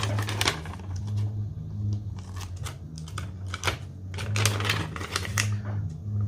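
Small scissors snip through thin acetate sheet in a run of quick, crisp clicks over a steady low hum, close and moderately loud.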